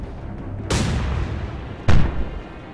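Naval gunfire in the Atlantic Fleet video game: two heavy booming shots about a second apart, each a sharp loud blast with a long decaying rumble, the second one louder, over a low background hum.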